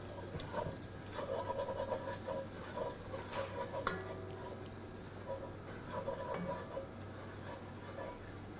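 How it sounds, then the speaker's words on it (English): A curry crab mixture fries in a little added oil, stirred in the pot for Tobago-style crab and dumplings; soft sizzling mixes with intermittent scraping and stirring strokes, close by, with no talking. "I'm going to add a little bit of oil just to allow it to fry a little bit"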